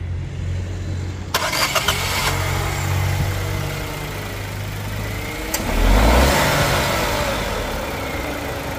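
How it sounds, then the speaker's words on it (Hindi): A Renault Kiger RXZ Turbo compact SUV engine starts with a sharp crank and settles into a throaty idle, then blips loudly around the middle before easing back to a steady rumble. "एग्जॉस्ट नोट किस तरह होता है चलिए सुनते हैं।"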